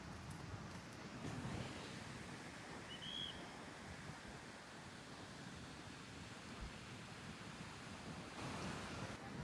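Sea waves at Candolim Beach in Goa make a steady, broad wash of surf with wind noise, constant and fairly even throughout, with no voices.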